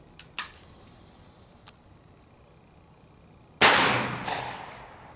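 Gunshots in a video game: a single sharp report early on, a faint click, then a louder blast with a long decaying tail and a second shot inside it, with no talk.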